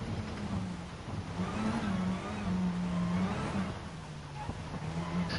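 Rally car engine in a racing video game holding a steady, loud drone throughout, with pitch rising and falling slightly as it revs through a corner, no talking.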